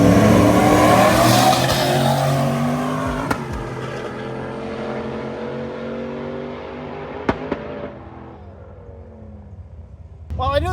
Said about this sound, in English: we got Nanner putting up for their first pass today, and the F-150 that I actually ran beside at Union